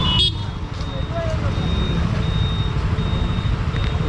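Reversing beeps sound as a vehicle is moved out near a temple, heard over busy roadway and traffic noise with voices talking nearby.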